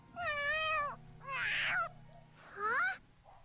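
A cat meows three times in the video game Tales of Xillia 2: rising, fairly quiet calls spaced about a second apart over a faint background hum, with no talking.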